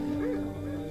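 A dog whimpering in a dog meat market, about to be loaded into a cage. The brief, thin, rising whine sits under a steady background hum.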